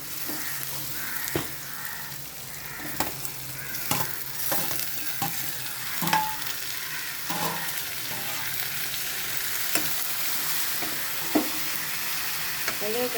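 Onions and three chopped tomatoes frying together in a pan: a steady, close sizzle with intermittent scraping clicks from stirring.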